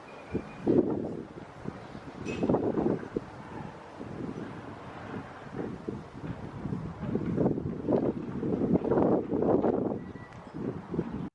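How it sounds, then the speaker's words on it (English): Gusty wind sweeps through an elementary school garden, battering the microphone in loud uneven rumbling bursts that rise and fall across the whole stretch, with no voices. "it got real gusty real quick, so hence the voiceover"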